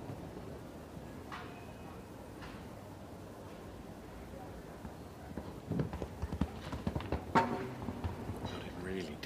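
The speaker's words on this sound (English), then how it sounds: "Guides the horse over the final fence to keep it on the 12th." Horse hooves thud and clip-clop across an arena during a 1.50m international show jumping round against the clock, faint at first then growing louder and more rhythmic under commentary.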